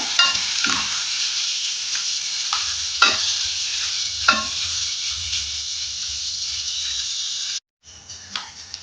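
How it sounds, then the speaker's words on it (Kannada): Onions frying in a pan, a dense, steady sizzle close up with a few scrapes of stirring, cutting out briefly near the end before resuming. "ಚೆನ್ನಾಗಿ ಫ್ರೈ ಮಾಡ್ಕೋಬೇಕು ಈರುಳ್ಳಿನ."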